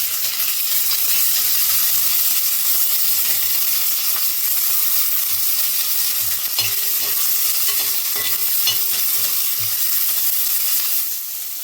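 Sliced onions with cumin seeds fry in a hot pan, a loud steady sizzle and hiss with a spoon scraping and stirring through the mixture throughout.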